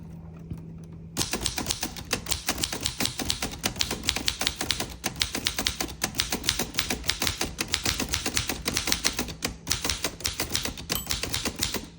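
Rapid, steady clacking of keys on a 1922 typewriter with no return handle, close and fairly loud, continuing without pause after a brief quiet start.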